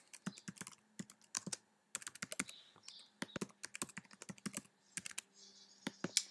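Keys clacking on a computer keyboard as a username and password are typed in, quick uneven bursts of close, crisp keystrokes with short pauses between, no talking.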